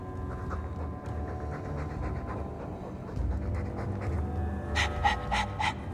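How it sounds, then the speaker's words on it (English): A dog pants heavily in Dragon Age 2, with steady, close breathing that runs unbroken for several seconds and grows slightly louder toward the end. "All that noisy dog breath,"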